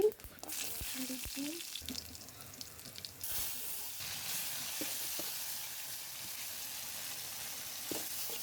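Garlic and cumin tempered in hot oil, sizzling and crackling steadily at close range, with a louder burst early on, small clinks scattered through, and brief low voice at the start.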